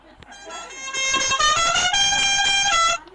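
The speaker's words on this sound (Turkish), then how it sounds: "Şu kornaya bakar mısın arkadaşlar?" A loud, sustained video-game car horn from a modified Tofaş Şahin blaring with a bright musical tone, preceded by a brief bit of faint background noise.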